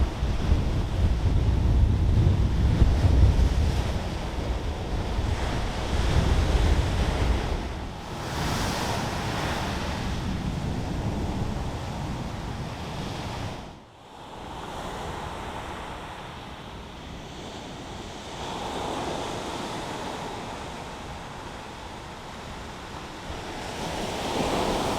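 Sea surf rolls onto South Milton Sands in South Hams, Devon, a loud, continuous wash with gusts of wind buffeting the microphone, easing slightly midway, and no voices.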